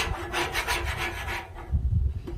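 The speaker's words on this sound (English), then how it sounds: "The sausage is a bit on the sticky side, so I'm going to clean that off." Metal scraper rasping across a Blackstone griddle to clear sticky sausage residue, a steady run of rough, close scraping strokes for about a second and a half, then quieter low knocks and scuffs.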